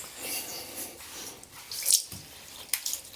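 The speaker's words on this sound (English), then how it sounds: "it's draining properly" A bathtub drains properly after being unclogged, with a soft, airy rush of running water broken by a few gurgles and splashy spikes, fairly close and quiet, with no talking.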